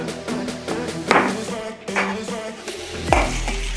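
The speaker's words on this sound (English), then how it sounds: "Just mix this up to get all those flavors together" A utensil clinks and scrapes against a bowl while harissa and salt are mixed before chicken wings go in, with repeated taps, stirring swishes and a duller thump near the end.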